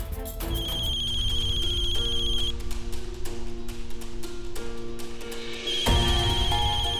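A phone rings with a repeating electronic tone over busy background music, ending in a sudden loud hit.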